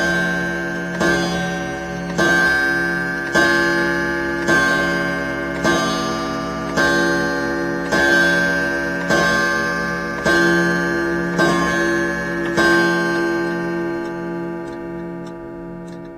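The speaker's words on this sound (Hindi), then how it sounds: "अचानक गिरजे की घंटी में 12 बजने की आवाज सुनाई दी।" A church bell strikes twelve times in a slow, even rhythm, each ringing stroke decaying into the next, while a clock ticks steadily underneath; after the last stroke the tone fades out alone.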